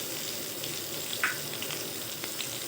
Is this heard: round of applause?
no